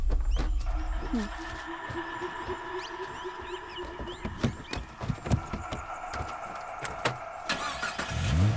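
A car engine cranks and turns over amid a busy film soundtrack in a jungle-adventure movie scene, with rumbling low noise and scattered clatter; the start is clearest near the end.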